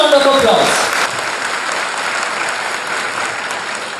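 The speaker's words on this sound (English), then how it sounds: "all these three toppers deserve a huge round of applause" An audience at a school annual report ceremony applauds the toppers, loud dense clapping that swells at first and then settles into a steady sustained roar.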